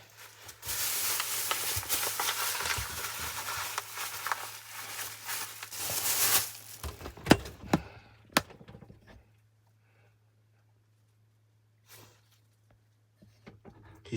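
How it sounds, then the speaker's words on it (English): Eggplant frying in coconut oil inside a van kitchen, a bright, crackling sizzle that starts suddenly, holds steady for several seconds, then stops, followed by a few handling knocks and near silence. "Let's fry up some eggplant."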